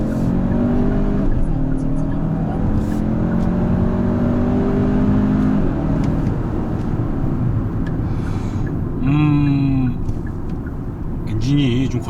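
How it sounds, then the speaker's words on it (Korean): A Hyundai Santa Fe MX5 with the 2.5 engine is taken to full throttle while merging onto an expressway, giving a rough, rising engine roar with gear-change dips. Someone talks over it throughout. "엔진이 좀 거칠죠?"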